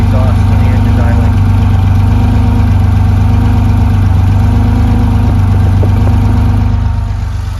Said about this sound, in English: Here's the sound of the exhaust when the engine's idling.